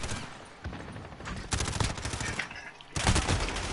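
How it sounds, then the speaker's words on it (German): Rapid bursts of gunfire from the video game Call of Duty: Modern Warfare, loud, dense volleys of automatic shots in two main clusters with brief lulls between. "Schuss."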